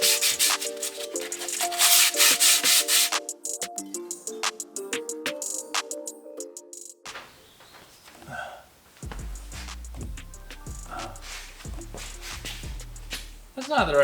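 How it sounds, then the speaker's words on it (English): Repeated rasping rubs of sandpaper against a rusty brake rotor on a Chevy Express van, rhythmic strokes set against music, with a short quieter stretch midway. "giving the park brake pads a scuff to get the rust off, and the inner wall of the rotor a sanding"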